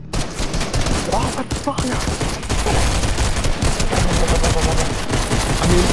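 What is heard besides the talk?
gunfire in Fortnite horror map, video game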